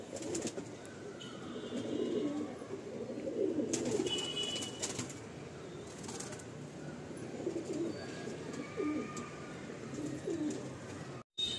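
Loft pigeons keep up a continuous low cooing at close range, with a brief flutter of wings partway through and no talking.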